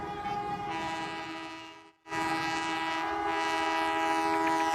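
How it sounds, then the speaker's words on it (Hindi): A train horn blares loud and sustained, breaks off briefly, then sounds again as the train approaches, with a rumbling rail backdrop. "तभी दूर से ट्रेन हॉर्न बजाते हुए आ रही थी।"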